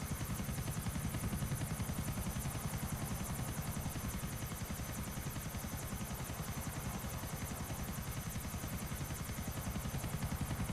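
A helicopter flies in the GTA video game, its rotor chop a loud, steady rapid pulse that fills the whole stretch without letup.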